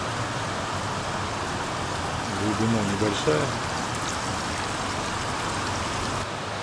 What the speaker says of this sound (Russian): На улице дождь холодный идет.